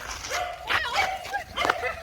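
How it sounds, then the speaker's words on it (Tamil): A dog barks and yips in short, excited bursts, three or four close calls over a couple of seconds on a walk toward a hill temple. "இந்த நாய் தான் நம்மள உள்ள போகணும்னு விரட்டுது, பயமாகுது."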